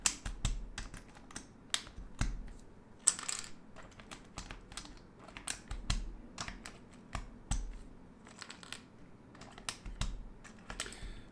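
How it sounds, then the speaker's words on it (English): Keycaps are pried one by one off a mechanical keyboard with a hotswap PCB, giving a quick run of sharp, close plastic clicks and snaps at an uneven rhythm in a quiet room. "Let me start by taking out all those keycaps."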